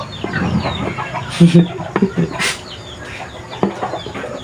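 Chickens cluck and squawk in a farmyard, several short bursts from nearby birds over a busy background of other fowl.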